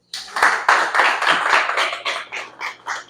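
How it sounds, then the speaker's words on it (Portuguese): An audience at a leadership training course in Betim, Brazil, claps together in a brisk burst of applause that starts suddenly, stays dense, then thins into scattered claps as it fades. "Palmas para Cristo."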